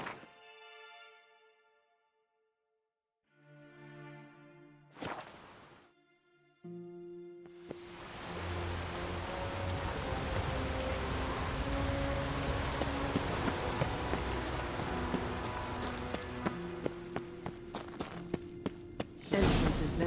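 Steady rain in The Witcher 3: Wild Hunt, a broad hiss of drops on surfaces that sets in after a few seconds of quiet tonal game ambience and keeps pouring evenly to the end, with some sharper drip ticks.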